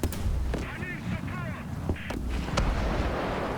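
Artillery fire in the War Thunder game booms as several loud, close blasts over a heavy rumbling battlefield background, with faint whistling and tonal sounds between the shots.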